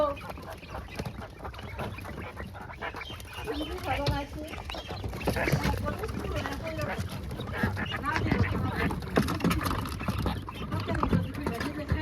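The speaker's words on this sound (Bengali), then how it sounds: "কিনে আনছে মুরগি কিনে আনছে" Chickens cluck and call in a village setting, short repeated bursts of clucking mixed with people talking nearby.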